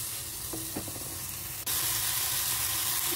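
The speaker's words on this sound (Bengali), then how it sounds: "টমেটো দেওয়ার পর এটাকে আমি আরও কিছুক্ষণ কষাবো।" Spice paste and tomato are being sautéed in a pan for an egg and cauliflower curry. A close, dense sizzle hisses throughout, with a couple of short utensil clinks, and it jumps louder partway through as more goes into the hot pan.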